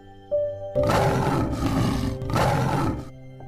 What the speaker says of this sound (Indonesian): Harimau memulai pertandingan dengan meraung terlebih dahulu. Raungan harimau terdengar keras.